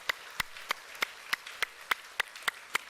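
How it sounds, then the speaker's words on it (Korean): Slow, evenly spaced claps ring out in a church during a sermon, about ten distinct sharp hand claps at a steady rhythm over a quiet background. "하나님께 감사와 영광의 박수를 드립니다"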